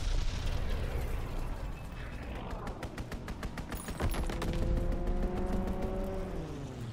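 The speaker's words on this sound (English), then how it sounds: "Strafing run inbound." Strafing-run explosions in the World War II shooter Call of Duty: WWII, a dense roar of blasts and bursts with a rapid run of cracks and a falling whine, loud and continuous with no talk.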